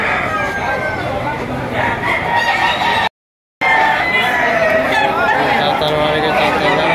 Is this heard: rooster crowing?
yes